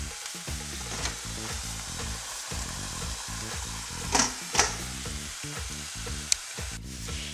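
A meat chop cooks on a griddle with no oil, giving a steady, close sizzle and crackle with a few sharper pops and spatters, heard alone without talking.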